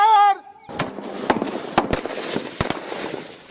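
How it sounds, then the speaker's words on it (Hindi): Grouping fire from firearms at a Border Security Force training range: a loud burst of irregular, cracking gunshots following a brief shouted command, with echoing reports overlapping for several seconds. "Grouping fire."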